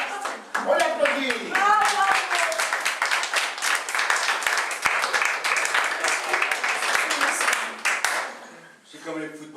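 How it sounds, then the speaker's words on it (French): Loud, dense audience applause at a gala evening show, a steady wall of clapping that runs nearly the whole time, with a few voices and cheers mixed in before it tapers at the end. "On l'applaudit."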